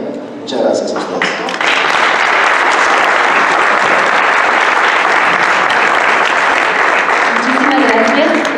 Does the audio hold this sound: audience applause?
yes